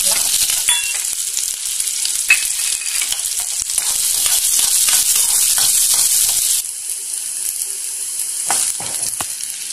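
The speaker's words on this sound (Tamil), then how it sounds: "ஸோ இந்த ஸ்டேஜில் நம்ம ஆனியன் ஆட் பண்ணிக்கலாம்." Onions frying alongside blackened dried red chillies in a pan, a loud, close, continuous sizzle with scraping stirs and a few sharp clicks, dipping slightly in level partway through, with no speech.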